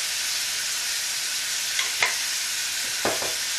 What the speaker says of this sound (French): on va laisser mijoter, d'autant que la viande se saisisse bien, que les oignons commencent à être translucides